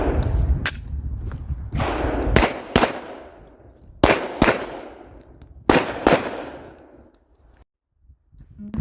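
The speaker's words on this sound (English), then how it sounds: "We'll fire into the left shoulder of each person, and because that's the open space that I have now" Sharp, loud shots from a Smith & Wesson M&P 2.0 Performance Center 10mm pistol fired outdoors at targets, about six reports in closely spaced pairs, each ringing out with a decaying tail before silence.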